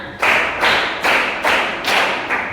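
Five sharp hand claps land one after another at a steady, unhurried pace, close and loud, in a rhythm exercise with no voices between them.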